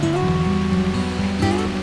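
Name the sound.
extremely heavy rain outdoors on a hike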